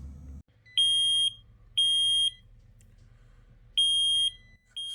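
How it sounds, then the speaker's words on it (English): A Maritron battery monitor alarm, set to warn on an AGM house battery bank dropping below about 60%, gives four short, even electronic beeps in an irregular rhythm over a faint low hum, with no talk. "So we have successfully set up the alarm on the Maritron."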